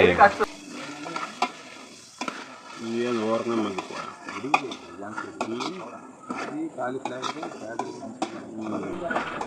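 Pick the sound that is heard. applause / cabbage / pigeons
cabbage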